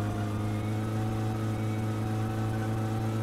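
A car engine in the video game My Summer Car drones steadily during a rainy rally, a struggling low hum that holds constant throughout with no voices.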